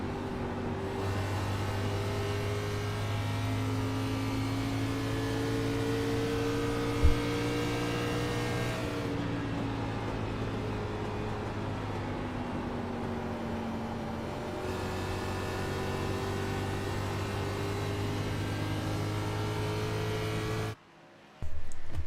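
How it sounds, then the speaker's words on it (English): A race car engine in iRacing at Pocono hums steadily with a strong low drone, its pitch rising and falling as the throttle is worked through the corners, then cutting out briefly near the end. "Just listen to how he manipulates that throttle through the corners."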